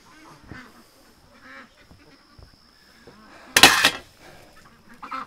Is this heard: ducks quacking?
yes